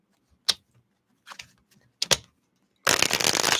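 Cards are shuffled for a reading, with a few sharp separate flicks and taps, then a dense, steady riffling burst close by that runs to the end.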